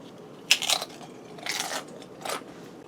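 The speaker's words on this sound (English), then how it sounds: "the crunch from the tortilla chips" Loud, crisp crunches from biting into skillet nachos made with tortilla chips, three separate bursts of chewing close to the mic with short pauses between, no talking.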